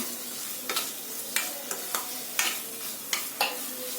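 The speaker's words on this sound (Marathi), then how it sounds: "किसमिस टाकून थोडा फिरवून घ्यायचं" Grated carrot and beetroot halwa with raisins being stirred in a pan, with a soft background sizzle and about eight distinct spoon scrapes in an uneven rhythm, close and without talk.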